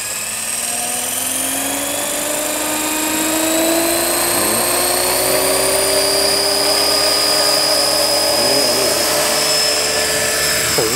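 A 3DX-500SE V3 radio-controlled model helicopter flies at a practice session outdoors, its high turbine-like whine loud and steady, with the pitch rising and falling as it maneuvers nearby.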